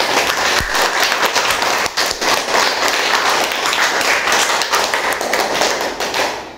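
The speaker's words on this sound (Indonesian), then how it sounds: "Sekarang tepuk tangan untuk kita semuanya yang meriah." Classroom applause as students clap together, a loud dense patter of many hands with a few sharp taps and thumps, sustained steadily throughout with no talking.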